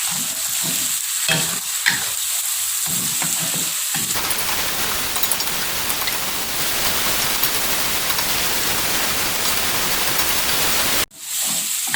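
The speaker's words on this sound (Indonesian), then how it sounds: "Tentunya kita tumis hingga mengeluarkan aroma yang wangi" Spice paste with bay leaves sautéing in a pan for a turmeric fish dish: steady loud sizzle fills most of the clip. Earlier, intermittent stirring scrapes break through quieter gaps, and a sharp cut near the end briefly drops the sound.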